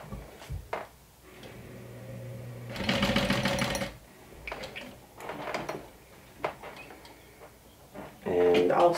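A sewing machine stitches vinyl for a saddle-style crossbody bag in short bursts, with one long loud run in the middle, several shorter runs and small handling clatters between them. No talking is heard.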